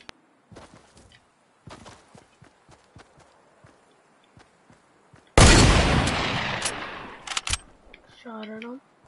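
Fortnite solo match gunfire: scattered sharp shots and clicks early on, then a loud, close burst of heavy firing and impact noise, followed by a few sharp reports and a short tonal effect at the end.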